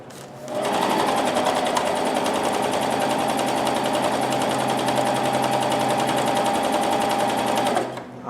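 Janome CoverPro 1000 coverstitch machine sewing a test seam on knit fabric, one continuous steady whirring run of about seven seconds, close and loud, starting and stopping abruptly.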